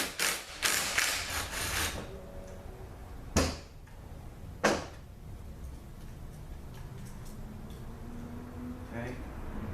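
A ratchet works a Torx bolt out of the solenoid bracket on a ZF6HP21 transmission, with a burst of quick clicking followed by a couple of separate sharp knocks, close and fairly quiet under some speech.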